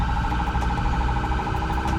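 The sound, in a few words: ambulance siren switched to phaser tone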